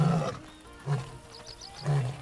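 A lion in the video game Wild Savannah lets out three short, guttural roaring grunts about a second apart. They are close and fairly loud, with a faint background ambience between them.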